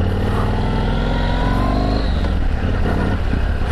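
A 1670cc Yamaha MT01 motorcycle engine runs loud and close with a steady throbbing idle, then the pitch shifts slightly as it settles into a rougher rumble.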